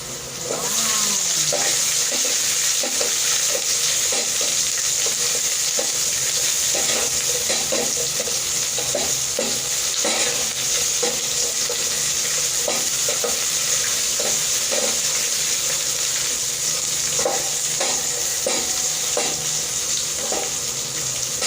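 Onions frying in a pan, a continuous hiss and sizzle with repeated scraping knocks of a utensil stirring at an irregular pace, close and steady throughout without talk.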